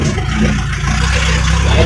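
A 4x4 off-road car towing a load of oil palm fruit in the mountains, its engine droning loud and close in a steady low rumble with slight rises, as if revving under strain.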